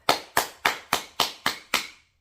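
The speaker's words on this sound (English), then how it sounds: "Feel the heat rise in the hands, but this time clap" Seven crisp hand claps in an even, steady rhythm, close and clear with short decays and silence between them.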